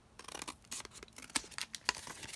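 Scissors snipping through paper while cutting journaling supplies, a close series of quick crisp cuts and rustles in an irregular rhythm, no talk.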